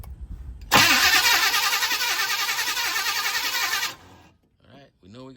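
A 1971 Monte Carlo engine cranks briefly, then catches and runs loud and close with a rapid pulsing idle for about three seconds before cutting out, leaving low voices murmuring afterward.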